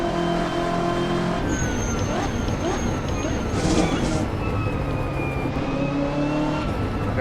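A race car engine in Assetto Corsa with a sound mod, lapping Road Atlanta in a Petit Le Mans event, droning and revving steadily with rising and falling pitch as it shifts through gears, loud and close throughout.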